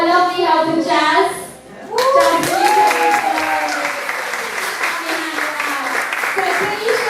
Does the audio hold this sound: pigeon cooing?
no